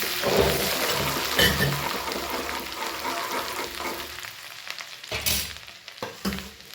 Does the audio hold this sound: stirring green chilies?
yes